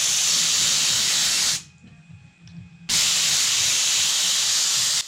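Two loud, steady bursts of spraying hiss from a glue sprayer, separated by a short quiet pause with faint background noise.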